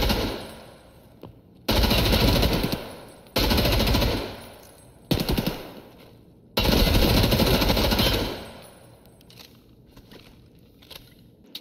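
Full-auto fire from a Colt M4A1 5.56 rifle in Escape from Tarkov comes in four loud, close bursts of rapid shots, each a second or two long and split by short pauses, then fades into quiet ambience with no voices.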